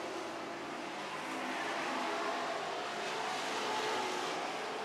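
Steady, loud engine roar and tire noise from Super Trucks racing hard at the back of the pack, a dense continuous wash with no clear pass-bys.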